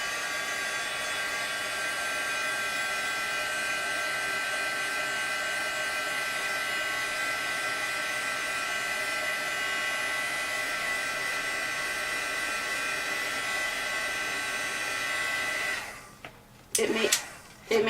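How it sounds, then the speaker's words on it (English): Heat gun blowing hot air to dry stamping ink on a card, a steady loud whirring hiss of fan and airflow that holds for most of the stretch before cutting off with a few brief clunks. "I'm going to use my heat gun and just dry the ink a little bit to speed up the process."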